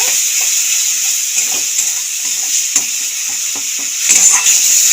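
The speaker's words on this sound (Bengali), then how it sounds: "মশলা কষানো হয়েই এসছে প্রায় তেল ছাড়তে শুরু করেছে" Spice paste sautéing in oil in a pan, with a steady bright sizzle and occasional stirring scrapes, close and continuous without talk.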